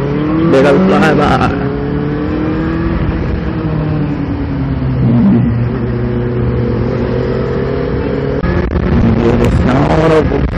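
A Benelli TNT 600i motorcycle engine revs hard in loud bursts at the start and again near the end, with a steady rumbling idle droning in between.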